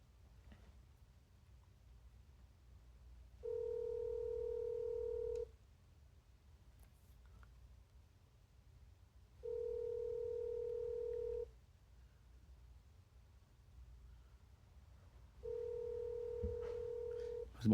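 Outgoing phone call left unanswered: three evenly spaced ringback tones, each about two seconds long with long gaps between them, steady and clear over a quiet room.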